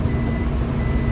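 Reversing beeps from a Suzuki Multicab automatic van as it is shifted into reverse while parked, a close, steady tone over the running engine, brief and without talking.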